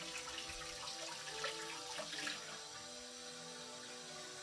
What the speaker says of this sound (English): hot water from our sink.